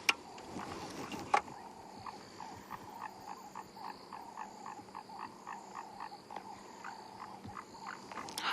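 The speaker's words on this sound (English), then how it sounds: "That is the call of a foam nest frog." A foam nest frog calling from under trees near a dam, a repeated knocking tock at a steady pulse of roughly two per second, moderately near, over a quiet outdoor background with a couple of sharp knocks at the start.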